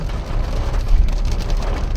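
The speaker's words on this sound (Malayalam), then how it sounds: "നോക്കേ മഴ സംഭവം ഉഷാറായി വരാം കേട്ടോ" Heavy rain falls steadily in a village in Kerala, a dense continuous hiss and patter on surfaces with a low rumbling undertone, even and close throughout with no talking.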